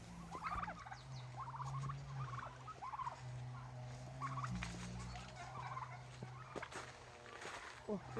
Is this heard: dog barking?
no